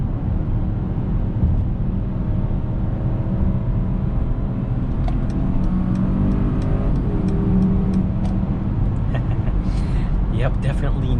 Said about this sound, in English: Yep, definitely no issues with this twin turbocharged V8.